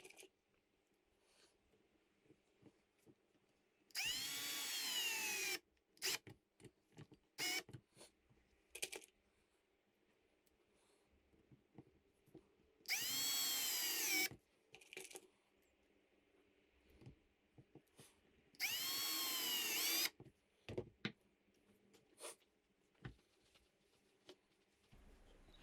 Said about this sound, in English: and then just screwing them in place.